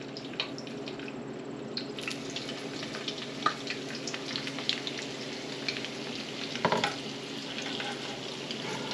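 Zucchini fritters fry in hot oil in a pan, a close, steady sizzle with sharp crackles and spits of splattering oil scattered throughout.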